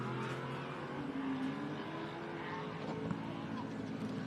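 A 7-litre off-road race car engine at the Big Desert 480 desert race, a steady, rumbling drone heard from some distance with a faint, continuous roar and no clear revving peaks.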